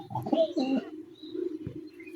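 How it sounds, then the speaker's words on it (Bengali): Domestic pigeons of fancy breeds such as Teddy, Kamagar and Jaldar coo softly nearby, giving a short series of low, throaty coos with faint chirps. "আজকে বেশ কিছু রানিং কবুতর সেল করব।"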